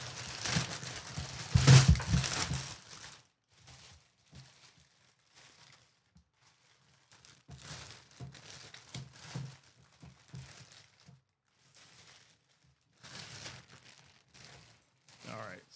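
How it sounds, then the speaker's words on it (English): Plastic packaging crinkles and rustles as an aluminum heavy-duty video camera tripod is unwrapped, starting with a loud crumple and then intermittent softer handling noises, close by and in a quiet room. "So let's just go ahead and unwrap this tripod and take a closer look at it."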